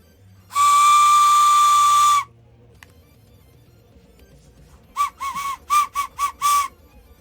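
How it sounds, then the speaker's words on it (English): A person whistles, first one long steady high note held for about a second and a half, then after a pause a quick run of five or six short sharp whistled bursts, loud and close with no talking. "Maybe I'm not whistling hard enough."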